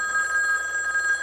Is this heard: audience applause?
no